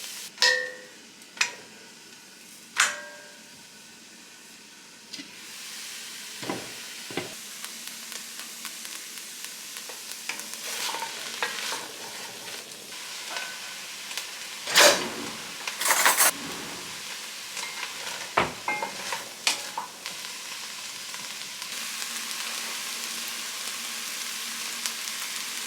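Mushrooms and peppers sizzle quietly in a pan, with sharp clacks and scrapes of stirring scattered throughout and a soft frying hiss underneath; no talking.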